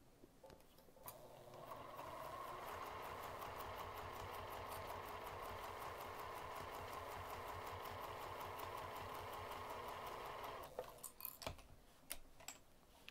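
A sewing machine runs a long basting stitch around the outer edge of fabric, a steady rapid mechanical whir of ticking needle strokes lasting about nine seconds before it stops with a few clicks and thumps.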